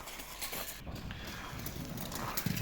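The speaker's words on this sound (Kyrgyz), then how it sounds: "Жанында тайлар бошонуп кетти тугандар." Young European-breed foals moving about a stable yard near Bishkek, a few soft, irregular hoof clip-clops over low background noise, fairly faint and close.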